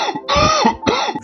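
A dry cough comes in three quick, harsh bursts close by, forceful and raspy with short pauses between them, heard alone.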